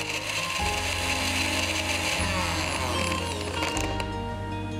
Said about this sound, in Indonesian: Lalu kita blender bersama dengan 4 siung bawang putih